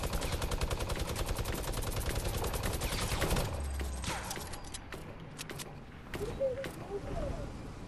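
Rapid automatic gunfire from a video game rattles in a dense, steady stream for about three seconds, then drops to scattered single shots and game sounds while people talk over it.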